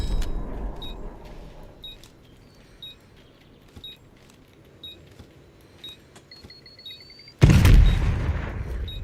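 A set bomb charge in a video game detonates with a sudden loud boom near the end, after a stretch of quiet game ambience broken by regular electronic beeps.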